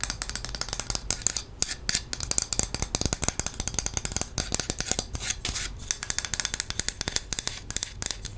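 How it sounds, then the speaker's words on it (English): Quick, dense taps and scratches on a thin, flat wooden spatula with a thick handle: crisp, close clicks in a rapid, uneven patter with no talk. "Next, I've got a simple wood spatula."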